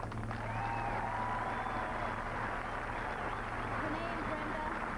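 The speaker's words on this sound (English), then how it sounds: "let's give a big round of applause for these 4 players" An audience applauds the four women's tennis doubles finalists at a 1995 Grand Slam final, with sustained clapping filling a large venue for several seconds.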